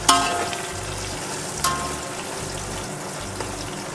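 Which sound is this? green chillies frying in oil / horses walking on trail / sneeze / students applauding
green chillies frying in oil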